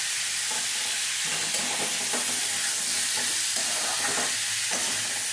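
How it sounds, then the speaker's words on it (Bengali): Vegetables fry in a pan with salt and turmeric under a steady sizzle, while a spoon scrapes and stirs through them in repeated strokes. "লবণ আর হলুদটা মিশিয়ে নিলাম।"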